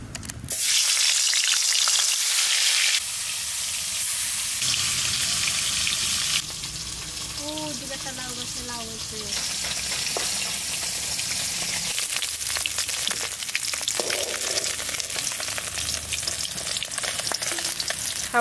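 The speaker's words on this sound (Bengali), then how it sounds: "এই কটা ভেজে নিই" Lata fish fry in hot mustard oil in a kadai, giving a loud, steady sizzle with occasional stirring, then a softer, spattering fry.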